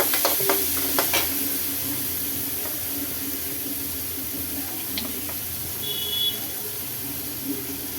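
Finely chopped onion frying in a pan with garlic gives a steady, moderate sizzle throughout, with a few stirring scrapes near the start and faint clinks, and no talk.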